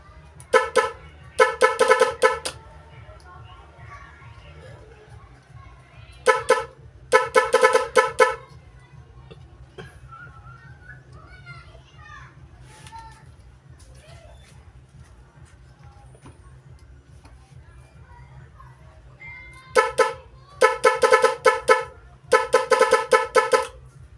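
A car horn wired to a Knife Pro 3 Plus tune box plays a musical tune in short blaring bursts, loud and close, separated by quieter stretches with a person talking.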